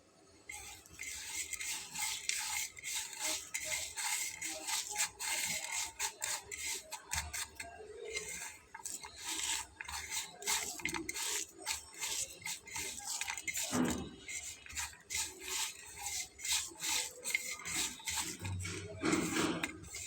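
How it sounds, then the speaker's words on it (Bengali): Broken rice being mixed by hand with mustard oil and onion, giving soft, wet squelching and light clicking sounds that continue steadily and up close, with no talking. "পেঁয়াজটা দিয়ে একটু হালকা হাতে মাখিয়ে নিতে হবে"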